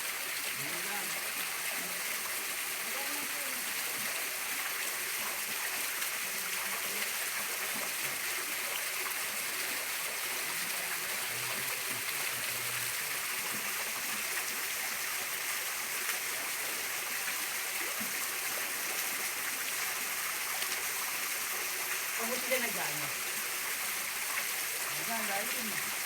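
Rushing water of Arapay waterfall roars steadily throughout, a dense broadband wash, with faint voices now and then beneath it.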